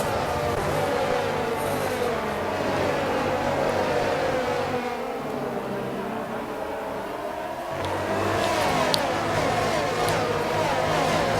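Formula 1 cars race through the esses of a US Grand Prix circuit, their high-pitched engines whining continuously at a distance, rising and falling as they pass through the corners, with no talking.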